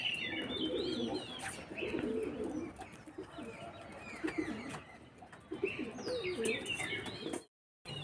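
Pigeons gathered around water coo softly and repeatedly in a close, busy flock outdoors, with faint chirps and light rustling, the cooing continuing in low rolling bursts throughout.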